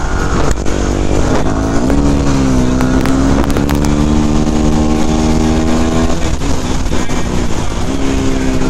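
A powerful motorcycle roars loudly on a ride in the rain, its engine pitch climbing, dipping and rising again through gear changes with a steady, close exhaust note.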